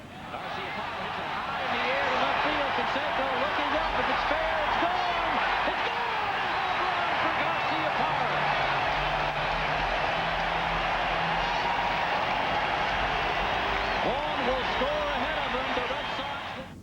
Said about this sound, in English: Another sellout crowd at Fenway, thrilled to watch the Red Sox come back to win